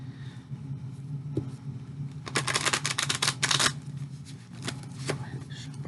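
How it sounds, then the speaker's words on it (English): Very large tarot cards are riffled and shuffled by hand in a quiet room, with a dense, crisp flurry of card slaps in the middle and a few softer taps before and after. "Go ahead and shuffle the cards."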